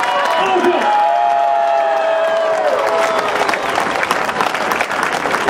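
A crowd applauds loudly for the mayor at a summer event in Saint-Pierre-la-Mer, dense sustained clapping with some cheering that builds and continues throughout, under voices over a sound system at the start.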